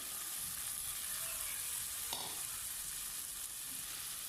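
Beef with masala sizzles and fries alongside browned onions for a Thalassery-style irachi choru, a steady close hiss broken by a brief stirring clatter midway, with no talking.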